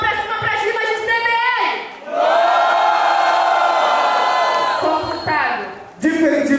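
Crowd at a competitive duel event in Mato Grosso do Sul roaring, whooping and shouting in loud waves, with a voice over the noise urging them on.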